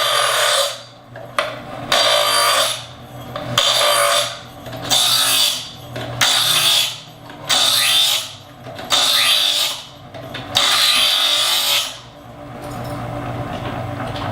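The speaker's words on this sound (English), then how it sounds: "It's been a long time since this knife has been sharpened." A kitchen knife drawn repeatedly through the diagonal grooves of a manual sharpener: about eight rasping, gritty pulls in an even rhythm, loud and close, with no talk.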